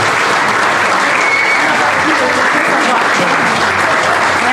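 A roomful of guests keeps up sustained, even applause for Aline at her 50th birthday party, the clapping loud and continuous throughout.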